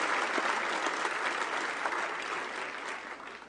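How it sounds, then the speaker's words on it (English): Sustained audience applause at a global climate summit leaders' dialogue, a dense, steady wash of many hands clapping that fades slightly toward the end. "Give them a great big round of applause."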